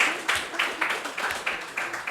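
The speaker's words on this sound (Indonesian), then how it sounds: "Tepuk tangan untuk kelompok 3." A university lecture class applauds student group 3 as it sits down: a steady patter of clapping with evenly spaced bursts, moderately quiet and heard alone.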